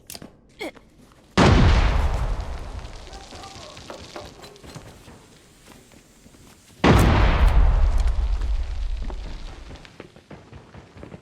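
Two heavy, booming grenade blasts from the Arena Breakout: Infinite shooter, each hitting suddenly and then rumbling down over a few seconds, loud and close, with faint clicks between.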